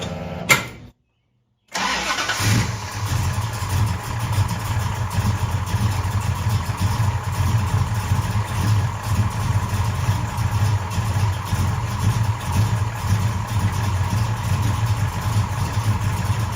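A 1970 Plymouth Roadrunner V8 with an upgraded fuel line and pump cranks from low fuel pressure and catches after a brief pause, then settles into a steady, rumbling idle, loud and close with no talking.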